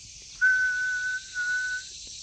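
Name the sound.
voice whistling to imitate a truck exhaust whistle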